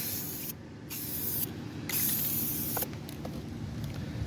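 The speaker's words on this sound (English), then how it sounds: "I'm just going to spray it, see what the paint does, let that dry" Spray paint hisses in steady bursts while dusting a coat onto a scratched 2020 Alfa Romeo wheel rim, with three short breaks between the passes.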